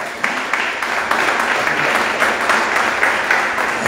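Audience applause at a conference talk, a dense steady clatter of many hands clapping together, loud and close, running throughout with no voices over it.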